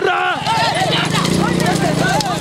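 Bulls pulling carts thunder along in a rakla cart race, their hooves clattering in a quick continuous beat, loud and close, under excited shouting from the crowd.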